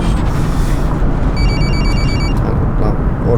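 A mobile phone rings inside a city bus in the video game The Bus, a short electronic ringtone chirping repeatedly over the loud, steady rumble of the bus's engine and road noise.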